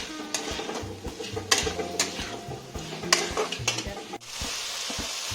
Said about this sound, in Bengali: পটল আলুটা ভেজে নেব আর একটু ভালো করে।